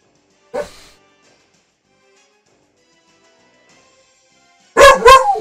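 A dog gives one short yap, then after a long quiet gap barks twice in quick, loud, close succession.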